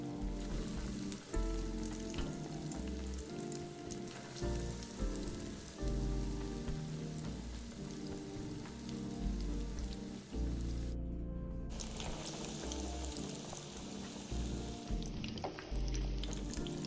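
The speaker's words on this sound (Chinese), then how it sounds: "接着再放入热油内油炸，" Lotus root meat rolls coated in egg and breadcrumbs deep-fry in hot oil over medium heat, a dense, steady crackling sizzle that runs unbroken from start to finish.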